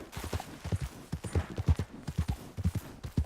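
A horse's hooves in the Red Dead Redemption 2 video game thud in a brisk, uneven gallop, each hoofbeat distinct and close, with no voices over them.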